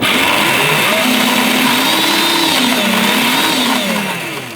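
Electric Power Wheels Jeep motors on a 48-volt battery and controller whine steadily in first gear, a loud continuous motor hum with wavering pitch that rises and falls before easing off at the end, no talk.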